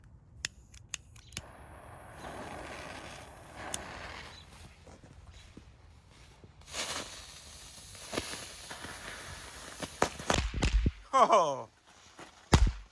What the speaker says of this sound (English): So I'm just going to light both of these at the same time. I'm pretty sure they shoot crackers out the end